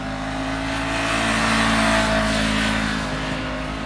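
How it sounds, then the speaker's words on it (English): A stock Honda CBR500R motorcycle passes by outdoors, its engine note swelling steadily as it approaches, peaking near the middle and then fading as it rides away. "you can hear the sound of the bike, the CBR500R. It's got a really nice sound to it."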